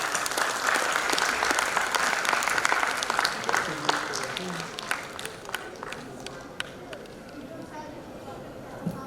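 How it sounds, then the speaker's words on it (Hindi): An audience claps loudly for a couple being honoured at a 75th Corps Day diamond jubilee celebration, a dense burst of applause that gradually thins into scattered claps. "तो एक बार जोरदार तालियां हमारे कपल के लिए।"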